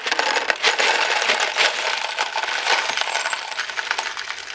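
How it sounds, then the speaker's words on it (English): Metal bolts dropped one after another into a small Harbor Freight parts container, giving a quick series of bright, close clinks and rattles. "I always like to put my bolts back in a container."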